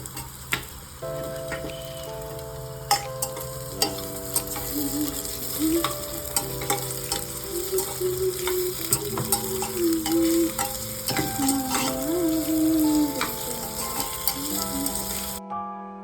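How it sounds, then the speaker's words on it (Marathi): Potatoes sizzling in a pan while being stirred, with repeated sharp scrapes and clicks of a utensil over a steady fry, a tonal hum in the background and no talking. "मस्त आपण टाकूयात बटाटे"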